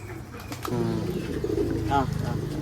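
Giribaz pigeons give low, rolling coos in a few close bursts, heard under and between people talking.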